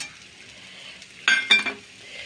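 Cashew nuts dropped into hot oil in a pan, a sudden sizzle bursting up over steady background frying, with a second burst as more are stirred in.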